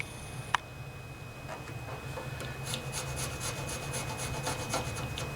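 Old gasket remnants scraped off a Tecumseh engine on a 1974 Sears Craftsman Rotospader rototiller, heard as a sharp tap, then repeated close scratchy scraping strokes growing steadier over a low hum.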